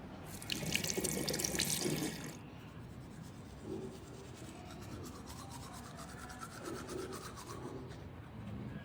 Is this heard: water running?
yes